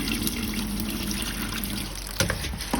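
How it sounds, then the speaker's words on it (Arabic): Three glasses of Indian basmati rice being washed by hand in water, a continuous close sloshing and trickling with a brief louder splash near the end, no talk. "هذا راح اغسله غسل زين وانقعنه"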